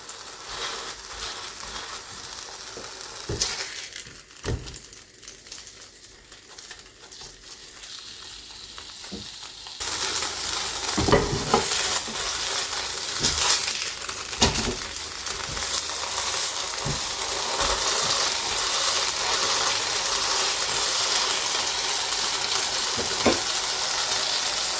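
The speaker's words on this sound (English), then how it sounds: "I'm sure you can hear that sizzling away." Doner kebab burger meat sizzles and crackles in a hot pan, a soft hiss with occasional stirring clatters that jumps to a louder, denser fry partway through and then holds steady.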